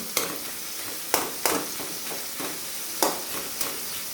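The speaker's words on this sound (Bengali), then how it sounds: "মাছের মুড়োগুলো আমি খুব ভালো করে ভেঙে দিয়েছি।" Broken-up hilsa fish heads fry with bottle gourd over high flame, a steady sizzle broken by several sharp spatula scrapes and clatters at irregular intervals, close and moderately loud with no voices.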